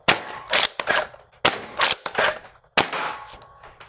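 A Caliburn foam blaster fitted with an upgraded plunger and trigger sear fires three sharp, punchy shots in a steady rhythm, each a loud close crack followed by a short mechanical rattle.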